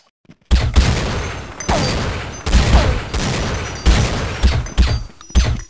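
Desert Eagle pistol fire in Counter-Strike, a series of loud, heavy booming shots in quick succession with short gaps, close and dominant.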